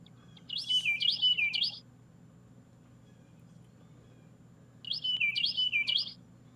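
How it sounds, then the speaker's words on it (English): Birds chirp at dawn in two short bursts of bright, warbling song separated by a quiet pause, over a low steady background hum. "The birds are letting us know."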